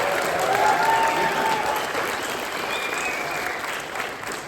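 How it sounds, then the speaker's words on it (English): A crowd at a science comedy show claps in sustained, dense applause that gradually eases off. "huge round of applause for you guys for coming out"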